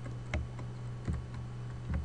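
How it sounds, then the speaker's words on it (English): A few sparse keystrokes on a computer keyboard while entering a command into a network router, soft clicks spaced apart with a quick double tap at the end over a low steady hum. "In the router, I'm going to type show IP inspect or show IP"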